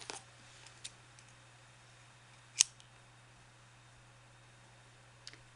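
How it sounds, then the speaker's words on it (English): Scissors snip a knitting yarn tail with one crisp, close cut standing out from a quiet background, accompanied by a few faint clicks of handling. "then just snip it off like that, and then just cut it."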